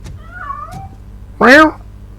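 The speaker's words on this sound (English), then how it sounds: "That cat must be hiding inside." A cat meows once in Robocop: Rogue City, a loud, close, rising-and-falling cry after some quieter tonal game sounds and faint voice-like tones earlier.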